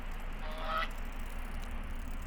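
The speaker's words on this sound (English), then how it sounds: "we have a goose that I can make honk" A goose honks once in a video game, a short nasal call near the start over a steady low background hum, with no talking.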